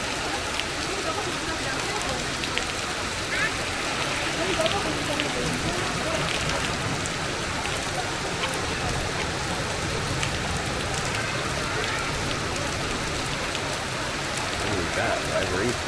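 Heavy rain pours steadily onto a street in China during a massive storm, a dense, continuous wash of drops on wet surfaces with faint voices underneath.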